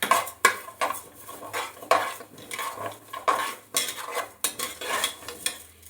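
Moong dal roasting in ghee in a pan, stirred with a metal spoon that clinks and scrapes against the pan in repeated strokes, close and clear, with faint frying underneath.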